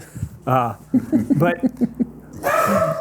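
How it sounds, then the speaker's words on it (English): A small dog yaps and barks in quick, high bursts close by at a delivery driver, with a person talking over it. "He's barking at the Amazon man."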